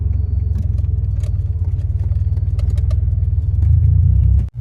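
Inside a DeLorean time machine replica driving around Las Vegas, a loud, close, steady engine drone and road rumble fill the cabin, swelling slightly as it accelerates before cutting off abruptly at the end.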